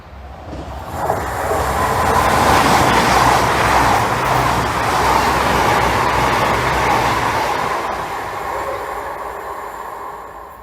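An eight-carriage fast passenger train rushes past close by, a loud broad roar swelling quickly, holding for several seconds, then fading as it moves away.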